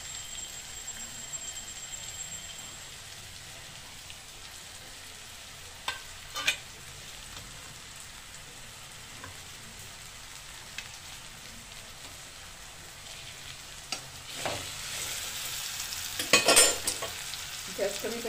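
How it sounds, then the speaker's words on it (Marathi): Smashed eggplant bharit with spring onions being sautéed Khandeshi-style in a pan gives a faint, steady sizzle, with a few soft clinks and scrapes of stirring and no talking. "आता चांगलं परतून घेत आहेत आई"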